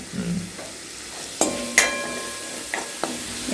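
A ginger, garlic and chili paste fries in a pan while a spoon stirs it, with a soft steady sizzle broken by a few distinct clanks and scrapes against the pan.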